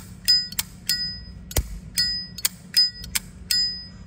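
Zippo lighter lid clinking open and shut in a steady series of sharp metallic rings, each strike leaving a bright bell-like tone that decays, close and loud with no talk.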